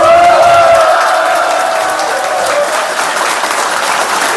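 Audience applause and cheering at a party rally launch of the Rebuilding Korea Party's Incheon chapter, a steady dense wash of clapping filling the hall for several seconds at high volume, with a faint voice or tone early on.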